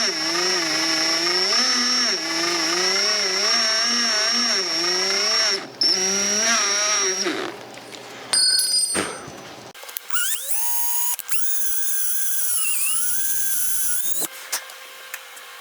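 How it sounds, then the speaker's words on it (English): A power drill bores a hole in an antique oak table, whining loudly and steadily, then stopping and starting again in several bursts with shifting pitch. "You don't want the drill bit catching."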